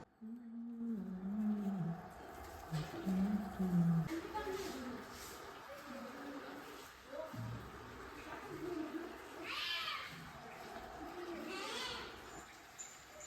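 Cats meow now and then nearby while a person talks over them, with some background chatter.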